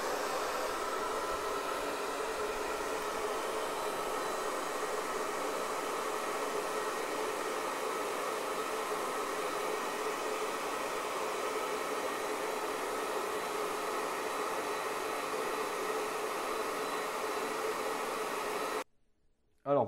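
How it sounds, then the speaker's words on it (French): A hair dryer blows steadily and loudly, a constant airy whoosh for about nineteen seconds before it cuts off abruptly near the end. "Je vais mettre le sèche-cheveux en route."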